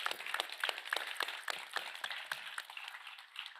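Light applause at a youth film festival award ceremony, a small group of distinct claps that are fairly faint and thin out toward the end.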